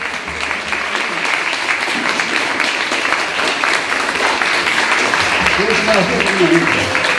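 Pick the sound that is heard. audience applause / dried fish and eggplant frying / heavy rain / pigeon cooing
audience applause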